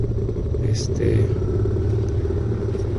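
Suzuki DR650 motorcycle riding at dusk in cold weather at Majalca, a steady low engine rumble and road noise holding evenly throughout, close and continuous with no pauses.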